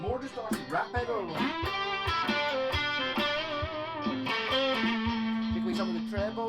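Distorted electric guitar plays sustained, buzzing chords and notes with a gritty, saturated tone, punctuated by sharp percussive attacks.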